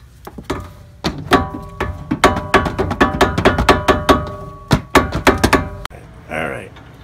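A wrench works on a long-threaded sway bar end link nut on a 2014 Ford Mustang 3.7L V6, giving a rapid series of sharp metallic ratcheting clicks and clanks in quick bursts, close up, before a short pause.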